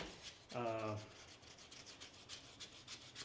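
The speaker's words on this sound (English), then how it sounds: "There's some curves here. It's hard to get into with the sander." A sander working along the edge of snapping turtle leather for a holster, producing a brief close rubbing rasp followed by lighter intermittent scraping strokes, with a short tonal hum near the start.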